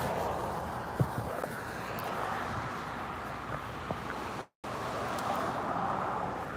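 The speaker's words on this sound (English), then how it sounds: "There's more cars driving behind me." Steady roadway noise from cars driving past on a street, a continuous broadband wash with a few faint passing swells, heard from the roadside with no talking.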